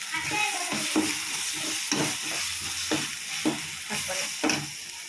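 Ginger garlic paste frying in a pan for chicken thokku, a dense, constant sizzle with regular stirring scrapes roughly every second, close and loud, no voices.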